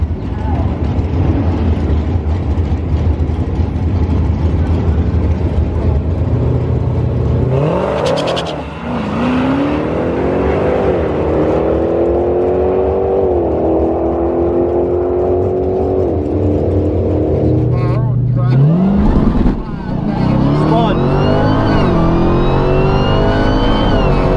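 A Dodge Hellcat Challenger makes a drag racing pass, its engine roaring loud and close with rising revs that climb through the gears, with brief dips near the shifts.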